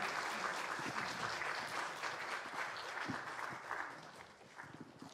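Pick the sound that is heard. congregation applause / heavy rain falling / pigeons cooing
congregation applause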